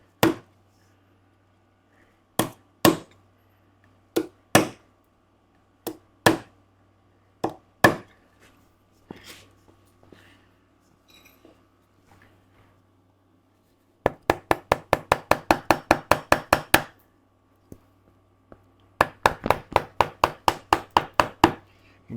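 Hand-chopping a mortise in wood with a chisel and mallet: sharp, close wooden knocks, first single blows spaced a second or two apart, then fast rhythmic bursts of rapid strikes, no talk.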